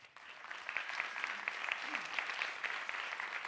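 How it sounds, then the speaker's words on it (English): A seated audience at a science-communication competition semi-final claps for a presenter being introduced: a brief, dense burst of applause, fairly quiet and even, with a few sharper individual claps standing out. "Applause, please, for Mattia Crivellini."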